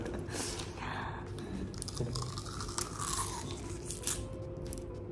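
Close biting and chewing of food, with soft crunches and wet mouth sounds over a constant low background hum.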